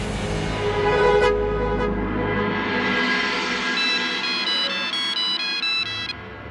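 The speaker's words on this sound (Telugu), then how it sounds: "ఉమేష్ కి ఫోన్ చేస్తాను." An electronic phone ringtone plays steadily, a bright repeating melody that stops abruptly near the end.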